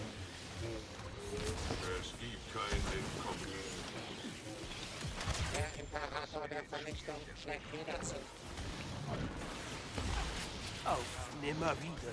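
Blaster gunfire in Star Wars Battlefront 2 rattles in rapid bursts and crashes under continuous talking throughout.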